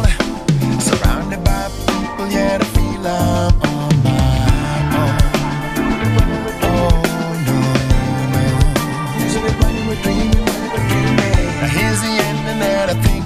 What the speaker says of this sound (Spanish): este tipo está utilizando todo el cuerpo del hi-hat y por eso suena así de sabroso